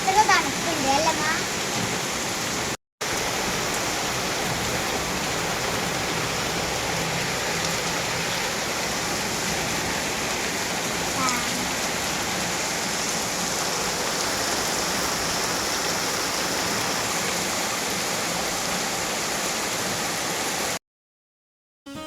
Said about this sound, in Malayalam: പുറത്ത് നല്ല മഴ കേട്ടോ.